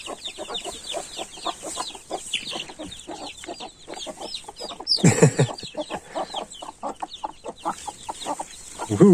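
Several hens cluck and chatter steadily at close range while being fed grain, with a brief louder flutter and squawk partway through and lively clucking continuing to the end.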